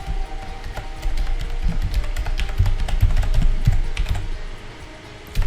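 Someone types a website URL on a computer keyboard, with a quick, uneven run of close key taps and clicks for several seconds and no talk.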